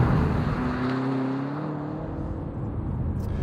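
A 2021 BMW M5 CS with a 4.4-litre twin-turbo V8 accelerates hard, its engine note rising in a loud, close drone with tyre and road roar, no speech over it.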